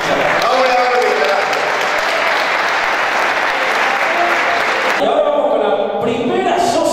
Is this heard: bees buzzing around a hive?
no